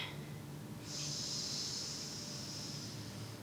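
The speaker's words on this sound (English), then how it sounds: "And out through your mouth. Breathe out." During a Shaolin kung fu breathing exercise, one person exhales through the mouth in a soft, airy hiss lasting about two seconds, close but faint against a quiet room background.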